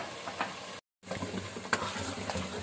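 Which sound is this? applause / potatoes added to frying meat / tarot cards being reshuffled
potatoes added to frying meat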